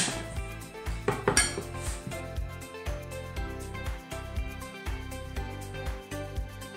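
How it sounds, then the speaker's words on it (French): A kitchen knife minces a peeled onion on a board, sharp irregular chops and clinks repeating in quick bursts over a steady tonal background. "J'ai épluché un oignon et je vais l'émincer."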